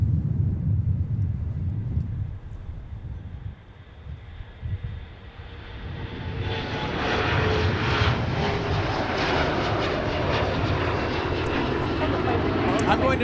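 An Aer Lingus airliner arriving from Dublin at Minneapolis–Saint Paul airport starts as a distant rumble under a talking voice, then swells into a loud, sustained jet roar as it draws near on a windy day.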